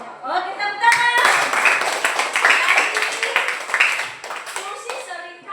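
Schoolchildren in a classroom clap their hands together in a lively burst lasting a few seconds, with children's and a teacher's voices heard before and after the clapping.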